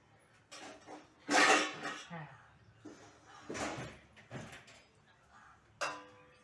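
Metal cooking pot with handles and its lid being handled in a home kitchen: several clanks and scrapes of metal on metal, moderately close, separated by quieter pauses, with someone talking in between.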